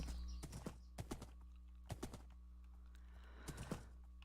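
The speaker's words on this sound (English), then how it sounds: "That's a baby horse. You can't ride them." Quiet, irregular clip-clop of a baby horse's hooves in a video game, light taps in small clusters over a steady background hum.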